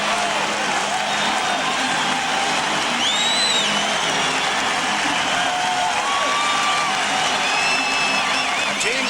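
Hockey arena crowd at a 1993 Wales Conference Final game between the Canadiens and Islanders, a steady wash of cheering and whoops as the Islanders emerge from the dressing room, with faint whistles and chatter blended in the roar.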